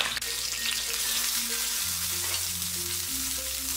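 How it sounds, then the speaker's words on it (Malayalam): Garlic cloves frying in hot sesame oil in a pan, a dense steady sizzle held close and loud throughout, with no voices over it. "ഗാർലിക് ഇട്ട് ഒന്ന് ചൂടായ ഉടൻ തന്നെ"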